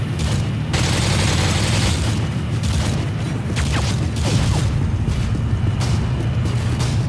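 Sustained gunfire and explosive booms in Call of Duty: Modern Warfare 2 fill the scene, a dense continuous barrage of shots and blasts with no pauses, loud and close throughout.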